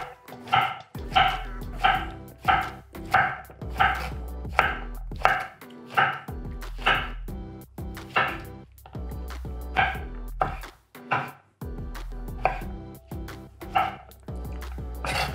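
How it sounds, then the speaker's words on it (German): A knife scores mushrooms and zucchini into four pieces on a board, producing a steady series of crisp, close chopping knocks roughly every second, loud and distinct with no voices. "weg damit und ritzen die ein hier, so dass wir 4 Stücke rausbekommen"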